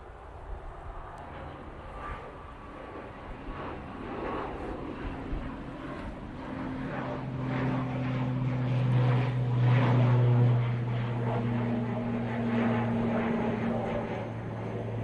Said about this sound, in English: We've got the EasyJet coming in from Paris Charles de Gaulle.